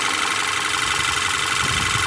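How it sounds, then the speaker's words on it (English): A Volkswagen 2.0 TSI petrol engine idles smoothly after faulty ignition coils were replaced, giving a steady, even, close-up hum with no stumbles or misses and no talking. "now the engine's running very smooth right now, smoothly with no problem"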